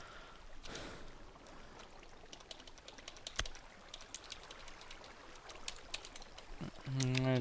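Light, sparse clicking of a computer keyboard being typed on, soft and irregular keystrokes over a faint background hiss.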